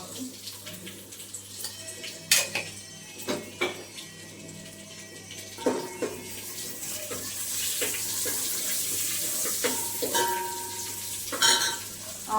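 Egg rice frying in ghee in a pan gives a steady sizzle, broken by repeated scraping and clinking of a spoon stirring against the metal, close and moderately loud, with no voices.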